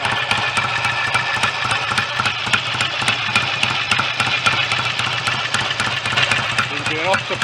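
A BSA A65 twin-cylinder motorcycle engine runs steadily at close range, giving a continuous rough, pulsing drone.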